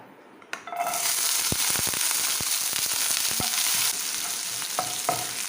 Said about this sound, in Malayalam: ഇതിലേക്ക് ഞാൻ വെളുത്തുള്ളി ഇഞ്ചി പച്ചമുളക് ചെറുതായി ചോപ്പ് ചെയ്തത് ഇട്ട് കൊടുക്കാം